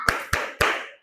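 Three sharp hand claps from a classroom, evenly spaced and close, each with a short ringing room decay, the last trailing off longest.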